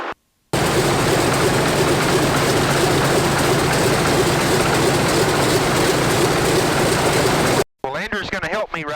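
The radial engines of a WWII-era C-47 transport aircraft run before takeoff, a loud, steady, dense roar heard close for several seconds, cut off abruptly, with a voice briefly heard afterward.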